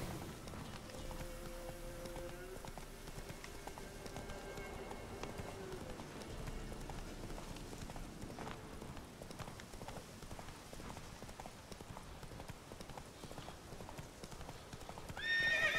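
Horse hooves clip-clop steadily as a mount is ridden through The Witcher 3 game world, with a whinny near the start; the galloping rhythm runs continuously and fairly close.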